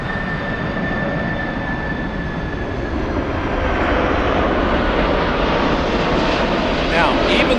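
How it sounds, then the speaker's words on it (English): An Asiana Cargo Boeing 747-400 freighter produces a loud, broad jet roar at Frankfurt airport that builds steadily, with a faint whine fading out early on. "That's an Asiana cargo plane, flight 775. That's a 747-400 freighter."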